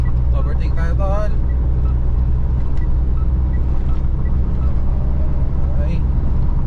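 A Mitsubishi Strada with a straight-pipe diesel drones loudly and steadily as it accelerates to overtake, a deep continuous engine rumble heard from inside the cab, with people talking over it.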